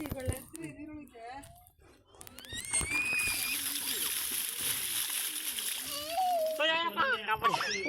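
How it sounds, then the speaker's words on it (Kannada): Water splashing and sloshing over people bathing at a temple pond on a hillside, loud and continuous, with children's voices and chatter mixed in. "ನೀರು ಉಯ್ಕೊಂಡು"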